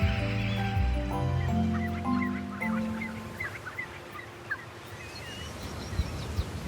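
Waterbirds, including red knots, calling at a migratory stopover site; loud honking, gobbling calls in stepped bursts over the first few seconds, then fainter chirps over a noisy wash.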